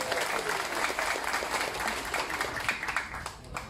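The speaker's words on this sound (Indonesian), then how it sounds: "boleh tepuk tangan untuk mereka." Audience applause fills a political declaration rally by Gerakan Pemuda Ka'bah backing Anies Baswedan for president, a steady, dense clapping crowd sustained loudly throughout with no break.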